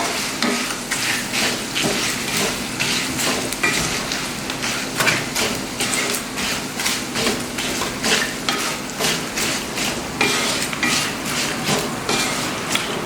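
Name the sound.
stirring chicken in a pan for Kerala-style pickle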